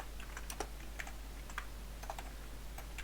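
Keys on a computer keyboard are tapped in short irregular bursts of clicks, close and fairly quiet over a steady low hum.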